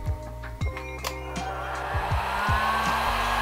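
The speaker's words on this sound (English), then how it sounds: "Bit of heat with the heat gun." A heat gun blows hot air steadily onto heat shrink tubing while wiring a Yamaha XJR1300 motorcycle, a close continuous whirring hiss that rises slightly with a few clicks and handling knocks, with no talking.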